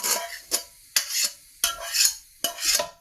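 A spoon scrapes and stirs softened onions into a mashed potato paratha filling in a bowl, making about five rough, close scraping strokes with soft knocks between them and no talk.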